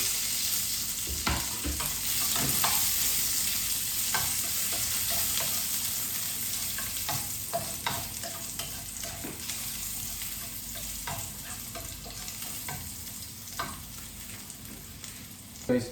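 Garlic sizzles and crackles in hot cooking oil in a pan for Filipino fried rice, a steady frying hiss with scattered pops and stirring scrapes, no talking.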